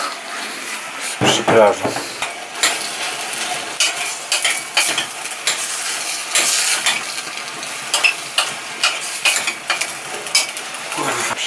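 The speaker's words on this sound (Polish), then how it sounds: "Smażyć trochę i zalać tym roztworem" Chicken sizzling in a frying pan for a sweet-and-sour dish as sauce is poured in and stirred, with scraping utensil clicks and pan noises under a person speaking.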